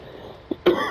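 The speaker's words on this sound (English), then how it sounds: "Sorry about the cough." A single cough from a nearby man, a short faint throat sound followed by a louder, harsher burst that trails off at close range.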